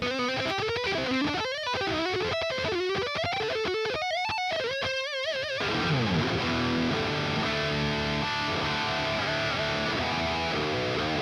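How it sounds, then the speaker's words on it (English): Distorted notes from an Abasi Concepts Ēmi 7 electric guitar bending and wobbling with the whammy bar, swooping down into a sustained, dipping growl, loud and continuous. "you do something on the whammy bar like that and you can hear the guitar kind of speaking"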